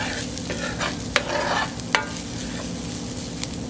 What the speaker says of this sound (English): one of the best smells going when you're sauteing your rice